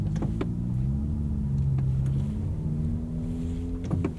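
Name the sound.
car with exhaust leak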